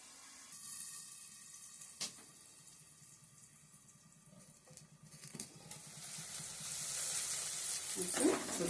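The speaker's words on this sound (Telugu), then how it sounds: "ఉల్లిపాయ కూడా చక్కగా వేగింది." Chopped onions sizzle steadily in a pan on the stove for a goat head curry, a soft, even frying hiss that swells louder toward the end as the onions are stirred, with a faint clink partway through.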